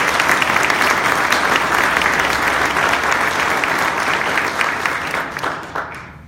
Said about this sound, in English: We just want to give you a round of applause,